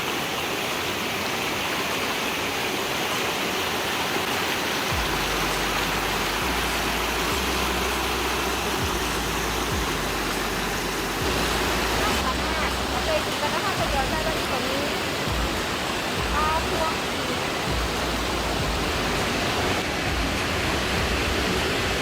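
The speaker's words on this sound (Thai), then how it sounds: "เสียงน้ำไหลแบบ เย็นสบาย" Water runs continuously through a forest stream and waterfall, a broad steady rushing roar that fills the whole stretch with low rumbling underneath and faint talk at times.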